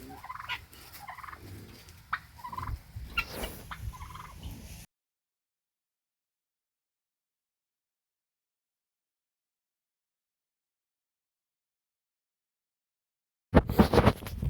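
Female turkeys inside a coop gobble and call in a close burst lasting several seconds. Silence follows, then a short loud burst of gobbling at the end.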